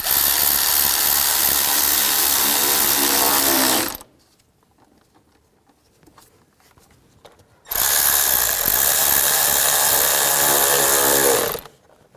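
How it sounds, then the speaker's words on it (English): A loud continuous power-tool whir runs for about four seconds, stops, then returns for another four seconds while worm clamps are tightened on a Toyota Matrix throttle body, close and steady. "Tighten down these worm clamps."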